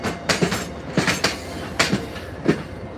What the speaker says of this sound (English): This is the train to Middleborough Lakeville.